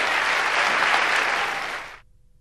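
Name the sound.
audience applause at a live concert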